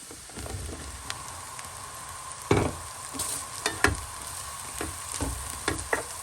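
Mushrooms hit a pan of caramelized butter and fry with a steady sizzle, broken by sharp spoon or spatula clicks and scrapes.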